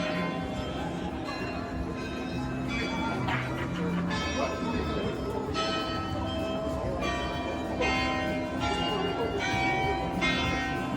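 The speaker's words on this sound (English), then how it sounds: "the bells that you're hearing are from the Alta Nikolai, this church here" Church carillon bells ring out in a melodic sequence, sounding somewhat distant over a busy outdoor background with murmuring crowd noise at a Frankfurt Christmas market at night.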